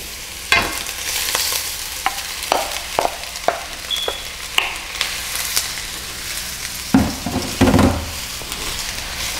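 Egg and cooked rice are stir-fried for pork chao fan, with a loud, continuous sizzle broken by sharp spatula scrapes and clacks against the pan at an irregular rhythm.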